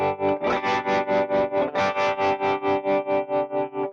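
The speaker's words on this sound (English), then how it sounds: "So here's the tremolo." Electric guitar through a tremolo pedal with tap tempo, sustained chords pulsing in steady, even volume swells about four times a second, loud and close with no talking.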